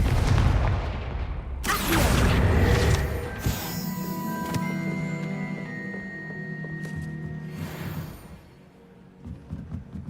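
Confringo fireball spell explosions in the Hogwarts Legacy video game: heavy booming blasts burst out, the loudest near the start, followed by a ringing magical shimmer and tonal music that fades toward the end.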